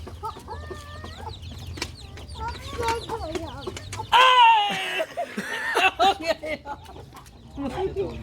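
A hen clucks and squawks close by in repeated bursts while people talk and laugh nearby.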